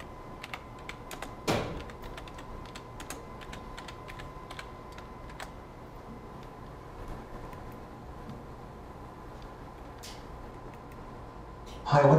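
Keys on a computer keyboard are tapped in short irregular bursts of crisp clicks, typing a few words, with a louder knock near the start and a soft voice at the very end.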